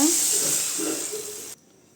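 Water is added to a hot pan of potato curry, a steady, loud hiss sizzling continuously for about a second and a half before cutting off abruptly.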